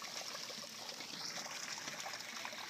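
A backyard garden waterfall runs continuously, a close, even trickle and splash of water with no pauses or voices.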